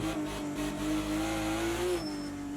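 A BMW 1M StanceWorks Edition in the Project CARS 2 racing game pulls hard at Bathurst, its engine note climbing steadily, then dipping as the gear changes, loud and close with no talk.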